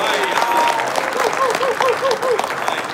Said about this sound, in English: Let's give a round of applause for Alex.